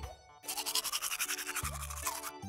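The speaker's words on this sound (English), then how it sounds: "Now we are brushing our teeth according to the challenge." A black toothbrush scrubs teeth with charcoal toothpaste in a fast, steady back-and-forth rhythm of wet bristle strokes, close and continuous for about two seconds.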